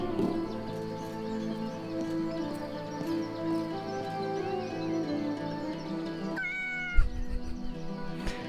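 A cat meows a few times in the video game Yes, Your Grace, with short rising cries over steady background music, followed by a sharper thump near the end.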